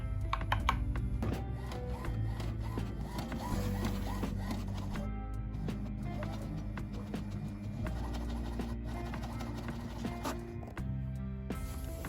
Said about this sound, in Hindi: taking a print out of this diagram